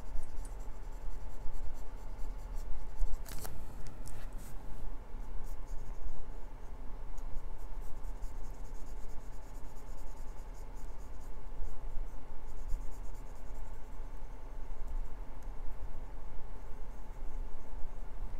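A pencil sketches on paper while drawing Spider-Man's mask, giving steady close scratching and stroking with short pauses and a few sharper taps.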